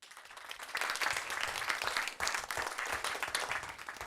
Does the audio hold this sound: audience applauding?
yes